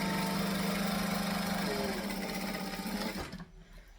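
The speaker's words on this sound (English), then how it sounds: "So we're going to stitch, we're going to back stitch." A sewing machine back stitches a bag, a loud fast steady whirr of the needle running for about three seconds before cutting off, leaving quiet handling sounds.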